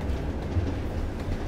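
A train runs on rails in a Russian war drama, giving a continuous low rumble with faint rhythmic rattling throughout.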